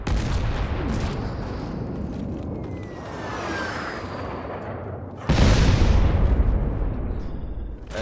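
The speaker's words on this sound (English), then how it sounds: "Airstrike comes in" Airstrike explosions in the PC shooter MC5 during a 5v5 competitive match: a sustained, loud roar of blasts and rumbling fire that steps up into a heavier, louder barrage about two-thirds of the way through.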